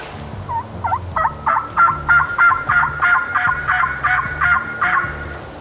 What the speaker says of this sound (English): we have these 2 birds out front gobbling quite a bit